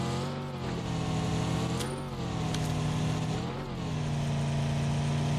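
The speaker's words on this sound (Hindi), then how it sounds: "अरे ये गाड़ी मैं चलाऊंगा" A sustained, loud game car engine hums steadily with layered harmonics, rising in two brief revs around the middle and again near the end, alone with no talk; a Fast and Furious style racing game.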